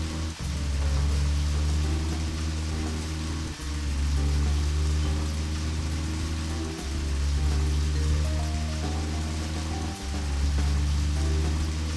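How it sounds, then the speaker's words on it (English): Steady rain patters over a low, droning background with faint periodic thumps, continuous and even throughout, with no voices, in the video game Deadly Premonition: The Director's Cut. "It's raining right now,"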